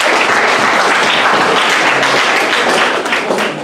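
A school music department awards audience breaks into dense, loud applause, a continuous close wash of clapping that tapers slightly at the end.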